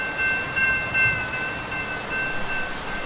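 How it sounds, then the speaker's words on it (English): A train passes in the Roblox game, a steady rumbling rail roar with a faint sustained horn-like tone running throughout, loud and continuous with no speech. "Yay! It's a train!"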